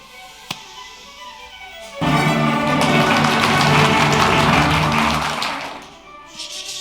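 Audience hubbub of many people chatting to each other swells in abruptly over orchestral music, a dense, loud wash of voices and instruments that holds steady before easing off near the end.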